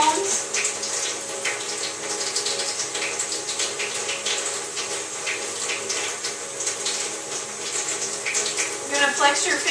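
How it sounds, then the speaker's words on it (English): Hands scrubbed with a scrub brush under a running tap during a surgical-style hand wash, a steady close rush of water with soft bristle scrubbing throughout and faint talk in the background. "I'm going to scrub all the surfaces of your hands, the back of your hands, the sides, the palms."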